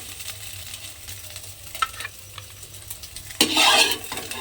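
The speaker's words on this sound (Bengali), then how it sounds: "তেলের মধ্যে সয়াবিনগুলো দিয়ে হালকা করে একটু ভেজে নিয়েছি।" Soybean chunks fry lightly in oil with a soft sizzle under scraping stirs, then a louder burst of crackling near the end.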